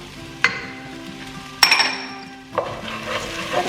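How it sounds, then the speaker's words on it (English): Spices being stirred into a sizzling pan for a vegetarian hiking meal, with sharp clinks of a utensil against the pan at three points over a steady soft frying hiss, close and alone. "Add a good stir."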